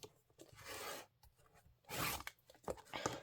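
Fabric is trimmed down along a folded line for a Kimberbell Pumpkins and Potions sewing project, with two close, crisp rasping cuts separated by a pause and a few faint scrapes afterward.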